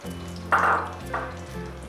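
Dry milk powder, semolina and coconut fry in a pan for a sweet halwa, giving a steady soft sizzle with a louder scraping burst midway and a second brief stir afterward.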